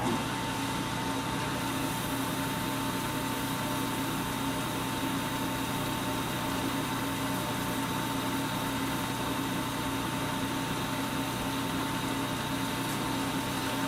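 Acrylic blank spinning on a lathe during polishing, a loud, constant motor whine and hum that runs steadily without pause, close by and alone.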